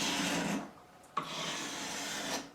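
Hand scraping on the wooden neck of a Warwick Corvette Double Buck bass during a neck repair, two close rasping strokes separated by a short pause and a small knock, with no talk.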